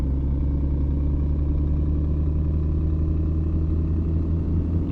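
A heavy truck engine in a video game drones low and steady, laboring uphill under load with a constant deep rumble and faint clatter, close and unbroken.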